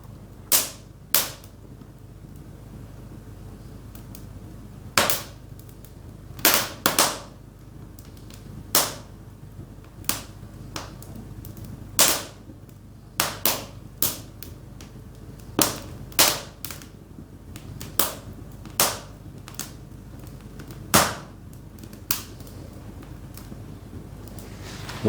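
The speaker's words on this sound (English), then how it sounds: "What is it about the sound of a fire like that?" Wood fire crackling in an Irish farmhouse, sharp irregular pops and snaps scattered over a soft steady background, close and fairly loud with no talk.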